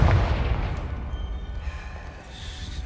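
A deep, booming explosion from the Confringo fire spell in the Hogwarts Legacy video game hits loudly at the start, then rumbles and fades over about three seconds.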